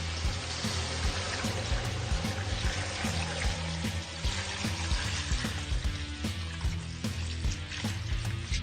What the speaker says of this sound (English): And we're going to cover that all with water.